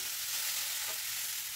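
Pork belly torresmo pieces dropping into hot oil in a pan, a dense, even crackling sizzle that stays steady and close throughout.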